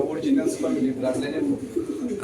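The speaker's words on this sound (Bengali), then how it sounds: "এই যেটা বসে রয়েছে এটা মাদি কবুতর" Racing pigeons at a pigeon sale coo in soft, repeated low throaty bursts close by, mixed in with people talking nearby.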